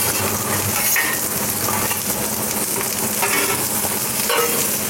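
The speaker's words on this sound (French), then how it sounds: "Je mets juste un peu de sel pour pas que ça accroche sur la plancha" Salted red onion frying on a hot plancha, a steady close sizzle with scraping and stirring clinks of a utensil throughout, no voices.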